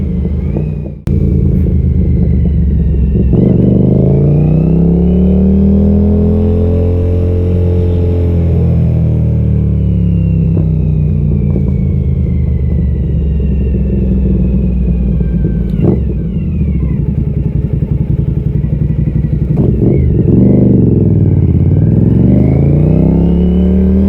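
A motorcycle rides through city traffic in New Zealand, its engine droning loud and close throughout, with the pitch rising and falling through gear changes and revs.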